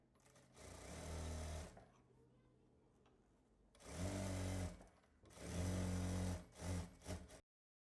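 A sewing machine stitching a half-inch folded hem on a frock sleeve, whirring close in several bursts, one long run followed by shorter stop-start spurts, with quiet gaps between them.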